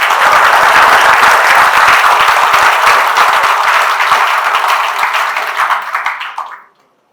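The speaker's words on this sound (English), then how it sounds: "So we welcome all of you with your big round of applause." Big round of applause from an assembled audience welcoming GST inspector trainees at an induction training valediction in Chennai, loud sustained clapping filling the hall before tapering off and stopping abruptly near the end.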